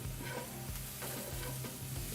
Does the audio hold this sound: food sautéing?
yes